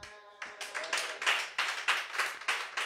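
A church congregation claps in steady rhythm to acclaim the Lord, roughly a dozen even, sharp claps after a brief sustained voice at the start.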